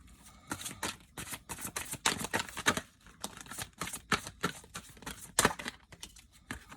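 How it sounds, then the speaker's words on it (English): Tarot cards are shuffled repeatedly, a steady run of quick riffling, slapping bursts close up, with no talking. "I'll shuffle it again"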